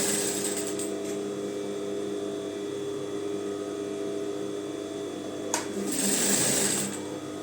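An electric sewing machine runs steadily, stitching trouser fabric pieces together, a continuous close motor whir with a brief louder burst near the end.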